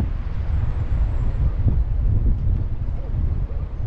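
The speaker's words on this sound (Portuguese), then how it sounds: "Tá um vento, tá difícil até de falar." Strong wind buffets the microphone outdoors in a lakeside town, giving a steady, loud low rumble that roars continuously across the whole stretch with faint background traffic.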